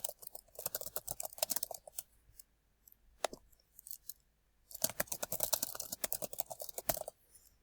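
Typing on a computer keyboard while entering assignments into a Microsoft OneNote to-do template; bursts of quick, close key clicks, a short pause with a single tap, then another rapid flurry, with no voices.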